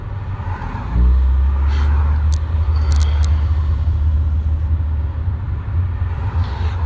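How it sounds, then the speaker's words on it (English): Congested eastbound 210 freeway traffic heard from inside a vehicle: a constant low road rumble and engine drone with a few brief higher squeals or brake hisses, steady and fairly loud throughout. "same congested nature of traffic here"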